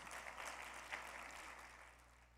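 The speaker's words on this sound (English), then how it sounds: "Can we have a round of applause?" Audience at a convention opening ceremony applauds, a faint, steady patter of many hands clapping heard from a distance, tapering slightly toward the end.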